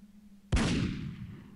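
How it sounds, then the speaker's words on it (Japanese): A gunshot-style blast set as the door-opening sound in a horror video game, heard once as a sharp, loud crack followed by a decaying echoing tail, with a low steady hum before it. "銃音の音が好きすぎてドアを開ける時の音がこんな感じに設定されとんじゃ"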